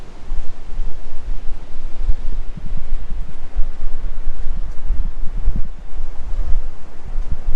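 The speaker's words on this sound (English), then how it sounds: "It's windy out here." Strong wind on an oceanfront hotel balcony in Fort Lauderdale buffets the microphone in steady low rumbling gusts, with a faint rustle underneath and no talking.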